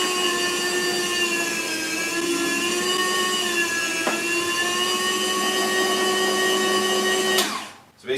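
A Weston 7½-inch electric meat slicer runs as venison is fed through into quarter-inch jerky strips. Its motor gives a loud, steady whine with a clear tonal hum for about seven seconds, then cuts off abruptly near the end.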